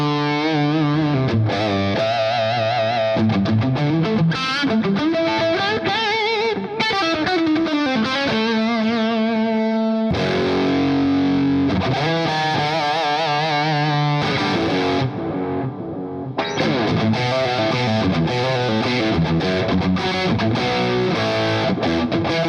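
A distorted electric guitar plays sustained lead lines and bends through a crunchy overdrive, with a brief pause midway before soaring notes resume.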